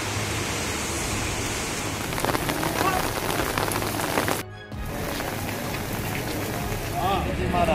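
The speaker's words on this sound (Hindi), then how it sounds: "कल से यहाँ पर काफ़ी तेज बारिश चालू थी" Heavy rain falls in Uttarakhand, a dense, loud, continuous hiss of water hitting surfaces, briefly cutting out midway before resuming, with a voice talking over it.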